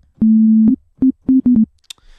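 Short low synth pluck bass notes from the Sytrus synthesizer: one sustained low tone then four brief plucks in quick succession, clean and alone, with a faint high blip at the end.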